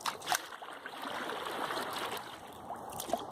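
Water pouring over the top of a flood control dam fitted with wooden board slats, a steady broadband rush heard from a kayak, continuous and moderately loud with a few faint splashes.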